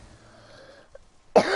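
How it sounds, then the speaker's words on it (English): A single sharp cough bursts out near the end after a quiet stretch, close and loud, preceded by faint low background noise from a gaming setting. "I've got a cough, man."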